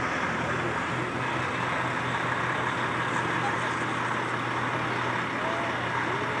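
Small racing trucks at Reefton kick up smoke, their engines a steady broad roar of vehicle noise without pause, with talk over the top.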